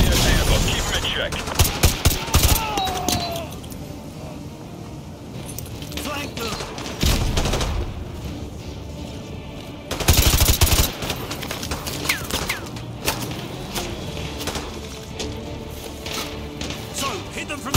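Gunfire in a realistic first-person shooter video game, with loud clustered volleys and sharp cracks in separate bursts, the heaviest near the start and midway. Radio-style voices talk between and under the shots.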